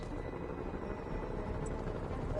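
A helicopter in Marvel's Spider-Man drones steadily nearby, a dense continuous rumble of rotor noise with no pauses and no voices.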